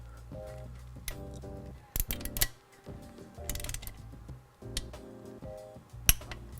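Bolts on a Mazda Miata transmission are tightened one by one in a crisscross pattern, with ratchet clicks in short repeated bursts and pauses between them, close and fairly loud, with no talking.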